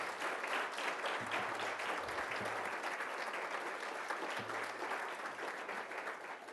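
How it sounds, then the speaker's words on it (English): After a faculty lecture, an audience gives a sustained round of applause, a dense, even patter of many hands that carries on without a break and fades slightly toward the end, with a few low sounds underneath. "Let's give another round of applause."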